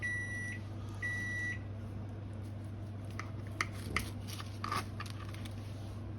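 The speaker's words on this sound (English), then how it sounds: "the old microwave going off." Two clear electronic beeps from a microwave oven, one after another, over a steady low hum, followed by a few faint clicks and rustles.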